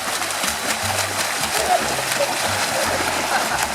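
Water in a backyard swimming pool splashes and churns continuously, fairly loud and close, with voices murmuring underneath.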